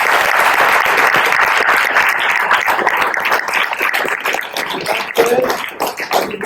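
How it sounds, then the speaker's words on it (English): A panel audience at a psychedelics conference breaks into applause, a dense wash of many hands clapping that starts loud, then thins out gradually into scattered, uneven claps toward the end. "I think he deserves an applause."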